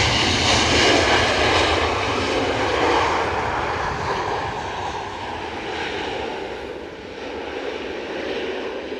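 Airplane engines at Edinburgh Airport roar steadily and loudly on a windy day, a broad continuous rumble with no talk over it.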